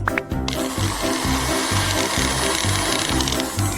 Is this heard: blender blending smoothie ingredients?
yes